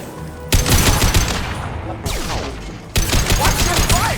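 Automated defense turrets firing in the video game Mass Effect 2, loud sharp bursts of rapid gunfire in three long volleys separated by abrupt cuts, dense and close, with no talk.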